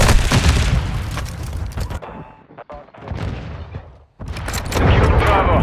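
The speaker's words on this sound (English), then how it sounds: "Throwing thermite!" A thermite grenade is thrown and bursts in a Call of Duty Modern Warfare 2 match: loud booming blasts and crackling gunfire, a brief quieter lull, then another heavy roaring burst, with faint game voices.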